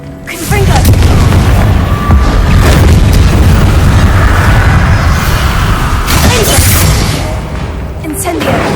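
Confringo blasting spells go off in the Hogwarts Legacy game, producing a loud, sustained rumbling explosion with crackling bursts that fades slightly toward the end.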